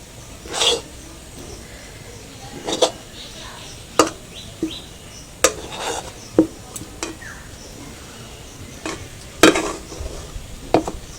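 Palm fruit dough being stirred and pressed in a pan as it firms up, a series of sharp, scattered scraping knocks of a spatula against the pan over a quiet background.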